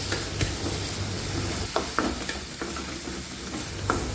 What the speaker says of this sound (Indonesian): kalau udah panas kita tumis sampai dia wangi ya si bumbu halusnya. Nah, ini diaduk-aduk aja